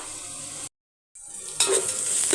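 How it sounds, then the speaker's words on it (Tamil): Onions sautéing in a pan for mutton thokku, a steady sizzle with stirring that stops briefly, then returns louder and brighter. "இப்போ வெங்காயம் வதங்கட்டும்"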